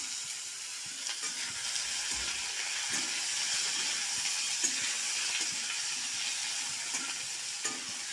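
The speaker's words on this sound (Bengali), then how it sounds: "আলুগুলো দিয়ে একটু নাড়াচাড়া করছি" Potatoes and browned coconut sizzle and fry steadily in a pan while being stirred, with a dense continuous hiss and soft irregular scraping knocks throughout.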